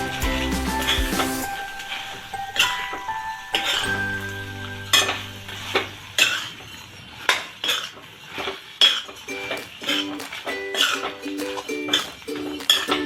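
Fried potatoes are stirred into a chilli potato sauce, with clinks and scrapes of a spoon against a pan and a sizzle under them. The strokes come at a steady, repeated rhythm and sit close and fairly loud, with no talking.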